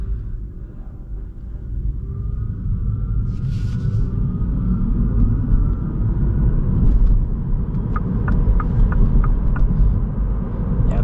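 A 2022 MINI Cooper SE electric two-door hardtop accelerates at full power in sport mode, heard as a steady low road rumble with a faint, rising motor whine and no talking.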